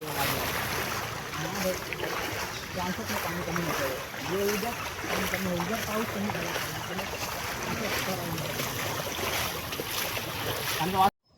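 Fast-moving floodwater rushing and churning steadily across the road between Dighati and Kelavane villages, with wind noise in the background and no clear talking.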